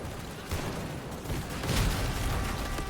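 Scattered rifle fire and distant booms crackle across a World War I battlefield in the game Over the Top, a dense, continuous clatter of shots that swells louder in the second half.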